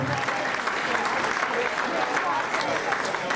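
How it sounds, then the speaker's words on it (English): A dinner audience of supporters gives a steady round of applause, dense and continuous across the whole stretch, with crowd voices mixed into the clapping. "give yourself a nice round of applause"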